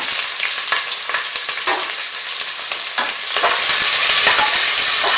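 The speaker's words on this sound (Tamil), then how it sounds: "வெங்காயம் நல்லா வதங்கிட்டோம்" Onions sauté in hot oil in a pan for mushroom biryani, giving a loud, steady sizzle close up with scattered stirring scrapes. The frying hiss swells near the end and no one speaks.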